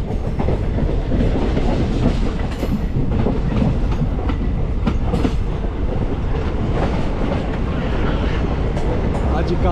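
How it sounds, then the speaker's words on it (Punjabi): Inside a passenger train running from Jalandhar to Sultanpur Lodhi, a constant loud rumble and rattle of the carriage rolls on with a faint clickety-clack of wheels, and muffled voices sit beneath the noise. "ਕਾਫੀ ਦਿਨਾਂ ਬਾਅਦ ਟ੍ਰੇਨ ਦਾ ਸਫ਼ਰ ਕਰ ਰਹੇ ਹਾਂ।"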